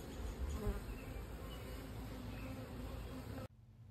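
Honey bees buzzing around hive supers during a honey harvest, a dense, continuous close swarm hum that cuts off abruptly near the end.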